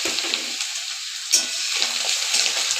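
Shrimp frying in a pan with onions already browned, giving a steady loud sizzle with a sharp flare of spitting as the shrimp hit the oil, then continuous crackling.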